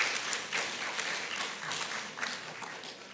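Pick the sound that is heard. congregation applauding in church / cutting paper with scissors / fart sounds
congregation applauding in church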